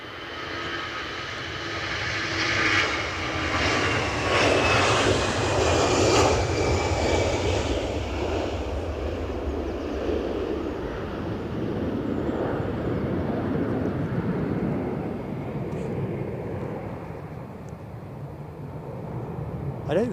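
Airliner engines roaring at Edinburgh Airport during Storm Amy, a loud sustained jet rumble that swells and slowly fades as the aircraft passes, with wind noise underneath and a voice talking over it.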